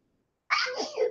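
A single sneeze after a moment of near silence, sharp and close, with a breathy tail.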